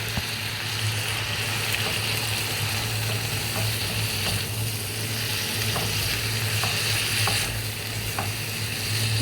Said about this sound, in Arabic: هنزل بالطماطم